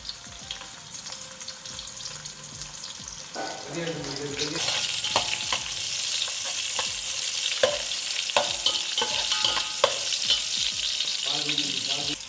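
Cinnamon, cloves, cardamom and onions fry in hot oil in a pressure cooker for mutton biryani, making a steady close sizzle that grows louder partway through, with stirring scrapes and occasional clinks over it.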